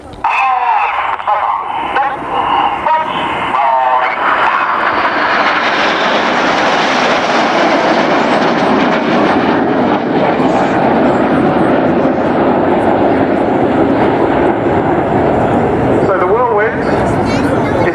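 A Red Arrows jet display at RNAS Yeovilton, with the lead jet flying a rolling display: a loud, sustained jet roar swells and holds near overhead, while a commentator speaks over a public address system.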